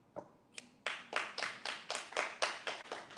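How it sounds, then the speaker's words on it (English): Audience clapping at a Democratic primary debate for congressional district 8, heard as about a dozen crisp, evenly spaced claps at moderate distance, with no talking over them. "Please hold your applause."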